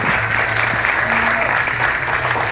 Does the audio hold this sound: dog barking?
no